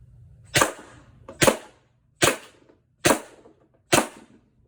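Five sharp pneumatic shots from a Pepperball Lifelite launcher firing Byrna kinetic projectiles on CO2, spaced roughly a second apart, each a loud crisp pop with a short tail and near silence between.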